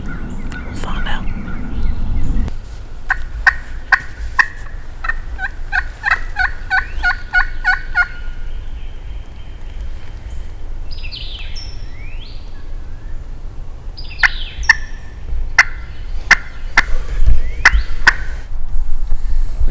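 A wild turkey gobbles in the Florida woods during spring turkey season, with rapid rattling calls standing out over a quiet morning backdrop and other chirpy calls scattered through.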